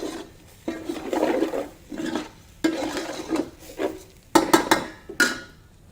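Brown basmati rice and vegetables stir fried in a pan, a spatula scraping and rasping through the grains in repeated uneven strokes, close and clear, with no one talking.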